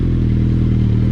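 A Suzuki Hayabusa motorcycle engine runs loud and close, a deep, steady throbbing rumble held at a light rev with no talk over it.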